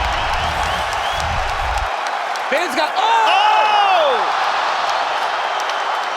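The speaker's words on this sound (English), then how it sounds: "Listen to this crowd." A roaring UFC fight crowd cheers and whoops in an arena. The steady din swells with rising shouts, while a commentator talks over it at the start.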